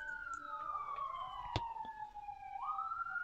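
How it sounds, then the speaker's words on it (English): Police sirens wail from a distance, their pitch sliding downward as they pass, with a sharp click partway through. "I don't know if you guys can hear this, but there's some sirens going on"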